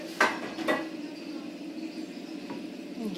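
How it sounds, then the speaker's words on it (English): A cooking pan clatters as it is pulled out in a home kitchen, with two sharp metallic knocks near the start and a softer clink toward the end over a steady low hum. "she has taken out the vessel. It's a pan."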